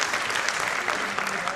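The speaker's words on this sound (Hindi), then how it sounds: "और जोरदार तालियों से" Audience applause at an Urdu poetry gathering, a dense, even wash of clapping from a sizeable crowd that stays loud and sustained throughout.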